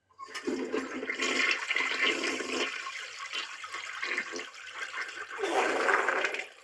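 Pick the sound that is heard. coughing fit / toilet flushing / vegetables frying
toilet flushing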